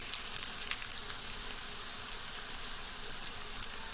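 Bitter gourd pieces frying in hot oil: a steady, even sizzle with fine crackling pops, close and continuous, with no talking.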